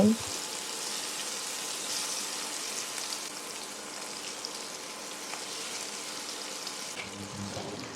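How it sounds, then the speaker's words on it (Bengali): Small marinated puti fish fry in hot mustard oil with a steady, close sizzle like light rain that continues without break, sharpening briefly near the end as something is moved. "এখন আমি মাছগুলো সব ভেজে নেব"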